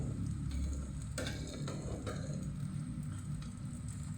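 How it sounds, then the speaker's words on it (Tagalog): Ground meat filling for lumpia shanghai fries in a pan with a steady close sizzle and crackle, broken by a few scraping stirs, with no voices. "Yung giniling po ay niluluto ko na bago ko ibalot sa wrapper."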